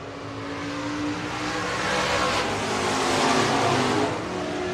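Stock cars race on a raceway, a continuous loud roar of several engines rising and swelling as the field runs past, with no talk over it.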